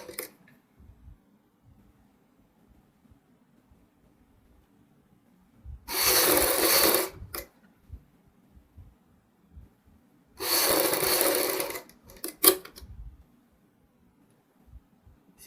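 A sewing machine stitches a neck strip onto a kurti in two short bursts of about a second and a half each, a steady close whir between stretches of near silence with small handling noises.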